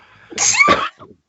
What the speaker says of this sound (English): She sneezed